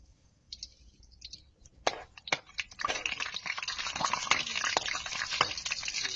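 Malunggay chicharon crackers dropped into very hot cooking oil, starting with faint clicks and then bursting into a loud, dense sizzle of frying that keeps crackling steadily.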